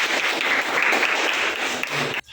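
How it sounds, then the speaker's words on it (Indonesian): A university theology class applauds at the end of a lecture, a brief dense burst of many hands clapping close by that stops abruptly. "Oke, tepuk tangan."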